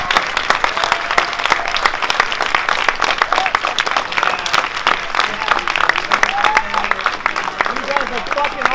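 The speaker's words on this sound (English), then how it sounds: "just give them a round of applause" A theater crowd claps loudly after a Star Wars Vader fan film screening at a live Q&A, sustained dense applause with cheers and voices mixed in throughout.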